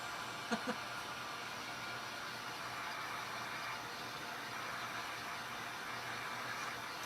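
A hair dryer blows over bunny tier tray decorations, a faint, steady whooshing hum running throughout with a couple of tiny clicks near the start.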